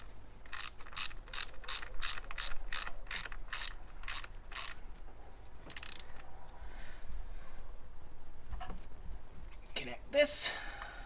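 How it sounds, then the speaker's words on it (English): A ratchet clicks in a quick regular run of about a dozen strokes while tightening bolts on a 2009 Toyota Corolla, close up, followed by a few scattered clicks and a metallic clink. "Do our final tighten with the ratchet."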